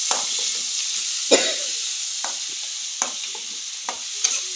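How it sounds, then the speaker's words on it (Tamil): Onion, green chilli and curry leaves sauté in hot oil after mustard seeds have popped, a steady bright sizzle with occasional spatula scrapes and clinks against the pan, close and without talk. "கடுகு பொரிஞ்ச வாட்டி அடுத்து வெங்காயம், பச்சை மிளகா, கருவேப்பிலை இதெல்லாம் போட்டு வணக்கணும்."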